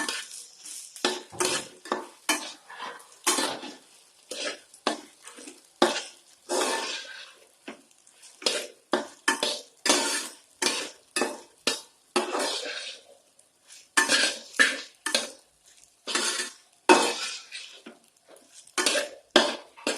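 A spoon stirs sabudana khichdi with crushed peanuts in a pan, scraping in quick repeated bursts with short pauses between, close and clear, with no voices.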